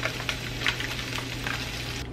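Sausage patties and potatoes frying in a pan, with a steady sizzle and scattered crackling pops over a constant low hum, close up and with no talking.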